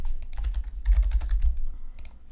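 Rapid, close typing on a computer keyboard, a dense run of light key clicks for a couple of seconds that thins out toward the end, with no voices.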